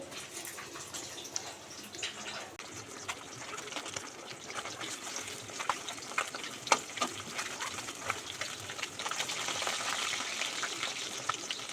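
Fish frying in hot oil, a continuous hiss and crackle with scattered sharp spits and pops, steady and fairly close.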